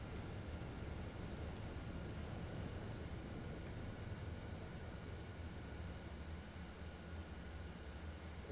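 Steady jet engine roar of a fighter aircraft in the 2005 Xbox 360 flight combat game Over G Fighters, a continuous broadband rushing drone heard from the cockpit, even and unbroken with no talk over it.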